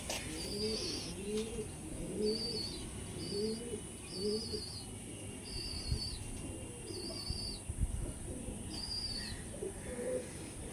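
Black Diamond pigeons coo in a steady series of soft, repeated low calls, with faint higher chirps from other birds and light background noise throughout.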